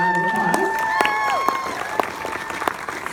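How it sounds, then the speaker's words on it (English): An audience applauds the Emmy-nominated cast of the comedy series GLOW at a live Q&A, a steady wash of clapping with sharp claps and some cheering, under the host's voice. "Let's give them a round of applause."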